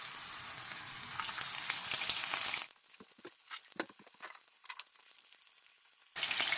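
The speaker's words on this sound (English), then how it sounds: "Drop them in your hot oil." Taco shells frying in hot oil with a loud, dense sizzle that drops suddenly to softer crackling and popping, then surges back to full sizzle, close up with no talking.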